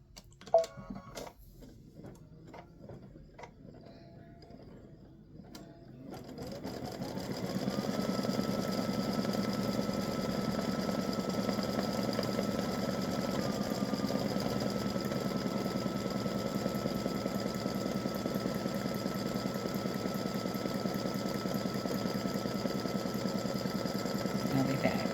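An embroidery machine stitching the red section of a design runs with a fast, steady mechanical whir and rapid needle ticking, starting after a few seconds of quieter clicks and settling into a loud, continuous hum.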